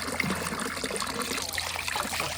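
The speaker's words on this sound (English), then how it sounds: "I've totally sorted the water trough, so this wasn't running" Water trickles steadily into a farm water trough, a continuous close splashing stream with no other sound over it.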